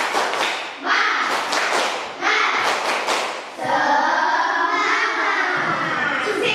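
A classroom of children does a rhythmic clapping chant, bursts of claps and voices in quick patterned groups, loud and close, followed by a sustained stretch of shouting together.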